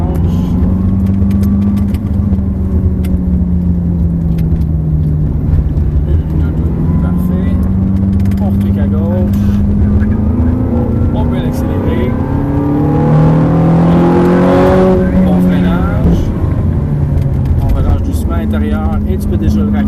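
A Ferrari on a racing circuit accelerates hard out of a corner, its engine climbing loudly through the revs close to the microphone while a driver speaks over it.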